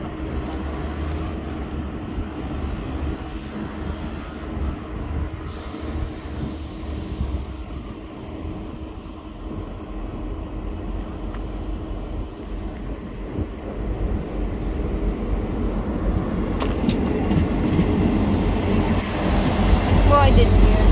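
A train passes through Eastleigh station, its rumble and wheel noise building steadily and growing loudest near the end, with faint squeals and rattles over a constant low roar.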